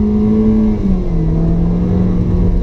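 A 1.4 Ecotec engine in an Opel Corsa E with a six-speed automatic revs high in a steady, loud, close drone that holds its pitch, dips slightly partway through and then settles again, with no voices over it.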